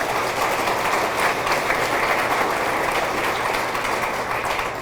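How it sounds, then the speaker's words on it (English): Sustained applause from an audience at a high school athletic hall of fame induction, steady dense clapping that holds for the full length without talk. "That deserves a round of applause."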